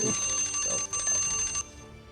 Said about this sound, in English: The alarm bell, right?